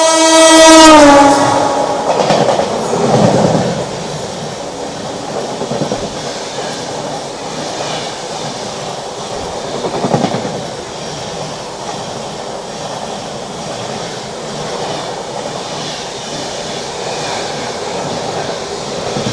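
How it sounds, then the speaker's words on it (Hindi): A New Delhi–Patna special train overtakes at Siratu railway station, opening with a loud horn blast and then a long steady rumble and clatter of wagons passing close by, with no talking. "अब वो ट्रेन हमको फिर से ओवरटेक करने आ रही है।"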